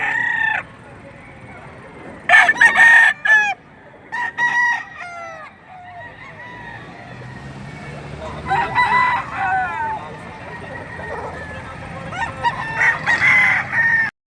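Roosters crow repeatedly in loud bursts with chickens clucking between them, fairly close, over a quiet farmyard background.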